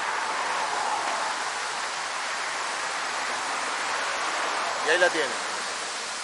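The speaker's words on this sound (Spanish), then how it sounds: "Vean la cascada ustedes" Waterfall Lágrima del Indio in Córdoba, swollen after rain, pours as a steady broadband rush throughout, with someone speaking briefly over it near the end.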